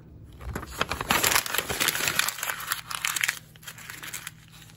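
A sheet of paper is crumpled up by hand, giving a dense, crackling run of crinkles that swells for a few seconds and then eases off, close and loud with no talk over it.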